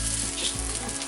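Green moong and mushrooms fry in a pan for a veg curry, giving a loud, steady, close sizzle with soft stirring scrapes and no talk.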